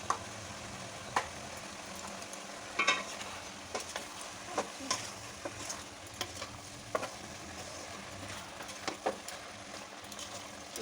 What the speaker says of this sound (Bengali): ভালো করে মিক্স করে